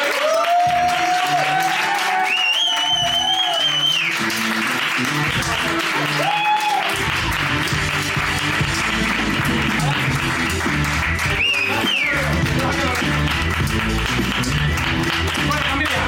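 An audience applauds steadily at the close of an evening TV programme, under music and voices.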